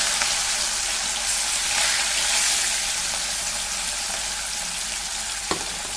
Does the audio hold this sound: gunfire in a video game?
no